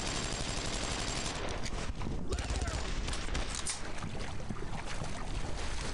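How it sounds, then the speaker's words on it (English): Sustained gunfire from a Brothers in Arms WWII shooter game, dense rattling shots striking walls, continuous and loud throughout with brief bursts standing out. "Are they shooting at the walls now?"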